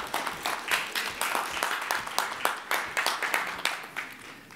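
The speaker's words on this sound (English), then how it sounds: "perhaps a quick round of applause for TalkWalker." Audience at a communications measurement summit conference workshop claps in a short round of applause, a dense patter of many hands that swells and fades in uneven waves, fairly close and steady for several seconds.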